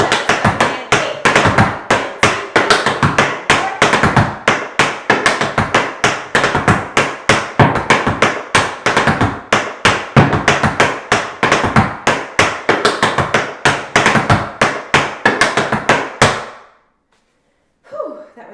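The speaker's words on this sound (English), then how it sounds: "the cramp roll's hard enough on its own, and then you add the toe heel, step heel" Tap shoes striking a floor during a cramp roll tap dance exercise, rapid crisp clicks in fast driving rhythmic bursts that run steadily and then stop abruptly.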